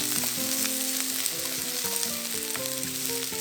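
Minced garlic and paprika stir-fry in oil over medium heat, giving a steady close sizzle with light stirring under a backdrop of tonal music.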